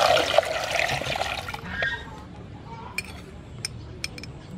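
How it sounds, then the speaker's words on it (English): Water splashes and pours into a pot while sea snail salad is being cooked, loud at first and then tapering off, followed by a few light clinks of cookware. "Add some water."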